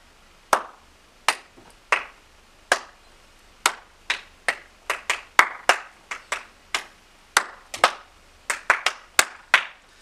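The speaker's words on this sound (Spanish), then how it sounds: "Aplaudimos ese cambio." Sharp individual hand claps, roughly twenty of them, sounding close and distinct in an irregular rhythm with quiet gaps between them, with no talking.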